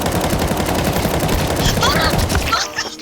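Rapid automatic gunfire sprayed in Counter-Strike 2 on the Nuke map, a dense continuous burst of shots that cuts off near the end, with game sounds behind it.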